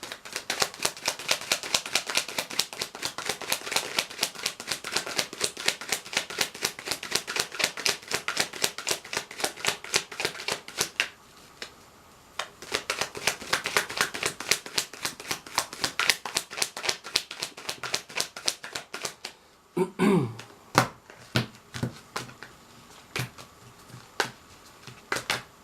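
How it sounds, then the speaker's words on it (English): Rapid riffling shuffles of tarot cards, a dense crackling flutter repeated in several bursts with short pauses between, close and fairly loud. "So I'm just going to shuffle the cards now,"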